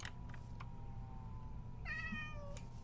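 A cat in Minecraft meows twice, a short call near the start and a longer, clearer meow near the end, over a quiet game background with no talk.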